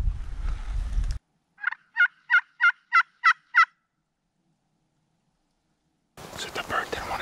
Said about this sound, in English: He gobbled a couple times